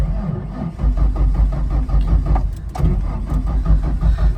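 A Ford Thunderbird Super Coupe that sat parked for a year cranks in a rapid, even rhythmic churn from the starter, loud and close, with no clear catch and no voices.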